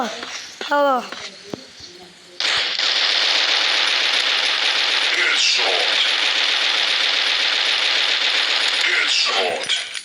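Sustained automatic gunfire rattles loudly in a shooter video game, a long continuous burst after a few short shots, with brief pauses; someone talks excitedly over the battle.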